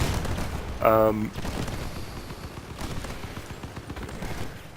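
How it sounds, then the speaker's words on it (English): Gunfire rattles in the Crossout vehicle-combat game as a mix of repeated shots and booms over a busy background rumble, while a man briefly exclaims near the start. "Please stop shooting me."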